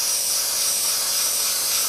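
An airbrush sprays paint at around 20 to 25 psi onto the wing of a Tamiya 1/32 Spitfire model, giving a steady, close, even hiss of air and paint that runs unbroken throughout.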